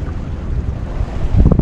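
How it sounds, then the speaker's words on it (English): Wind rushing and buffeting a microphone aboard a sailboat on the St. Lawrence River near Quebec City at night, a loud steady roar that swells toward the end, with no voices. "I got a little breeze now"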